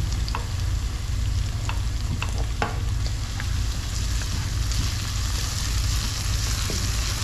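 Garlic ginger paste frying in a pan with onion, chilli, cumin and black pepper, making a steady close sizzle with occasional clinks of stirring throughout.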